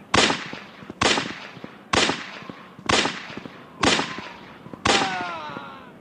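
Six evenly spaced gunshots ring out in a western video game, each a sharp, loud crack followed by a short decaying tail, with the last shot trailing a ringing whine.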